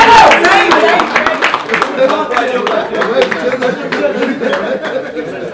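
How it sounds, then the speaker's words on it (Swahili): A crowd claps at a gathering before a competition, with a dense patter of hands mixed with chatter, laughter and talking voices. "Atakapopiga basi makofi wote."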